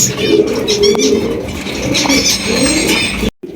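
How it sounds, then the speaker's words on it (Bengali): Soft, low cooing of a big Jacobin pigeon repeats in a rolling rhythm, close by, with faint chirps from other birds in the background. "একদম বিগ সাইজের জ্যাকোবিন কবুতর পছন্দ হলে নিতে পারেন"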